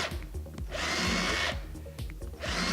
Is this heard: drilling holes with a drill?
yes